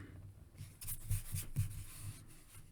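Pencil or pen drawing on paper to add details to a cartoon character's vest, heard as soft, close scratchy rubbing strokes in short uneven bursts with brief pauses and no talking.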